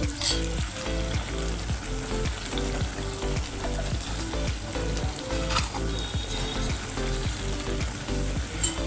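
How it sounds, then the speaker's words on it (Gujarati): Ghee poured over freshly cooked Kathiyawadi khichdi in a hot pan gives a steady, close sizzle and crackle with faint stirring and scraping throughout, no voices. "તો હવે આપણે ઉપરથી થોડું ઘી નાખશું."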